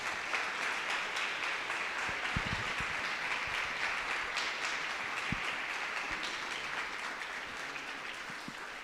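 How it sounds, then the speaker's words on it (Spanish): A church congregation applauds a call to praise Jesus Christ, a steady dense wash of clapping that holds evenly throughout, with a few low thumps underneath. "Dale un aplauso a nuestro Señor Jesucristo."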